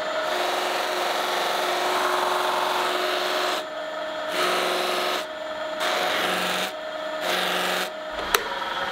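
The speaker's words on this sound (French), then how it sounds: "Là, je passe le molleton vraiment sur tous les angles." A felt buffing pad works a handmade wooden butter knife with a continuous close whirring rub, broken by several brief pauses as the pad is lifted and repositioned, ending with a small click.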